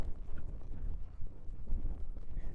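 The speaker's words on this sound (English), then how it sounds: "there's an amount of time that we have to let these horses lope around" Horse loping on soft ground during a training session, hooves thudding in a steady low rhythm with faint wind noise, no talking.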